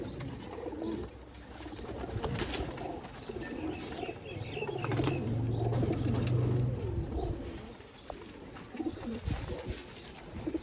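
Sialkoti pigeons cooing, with low, soft throaty coos that swell into a steady rolling run near the middle, amid faint background noise and occasional light knocks.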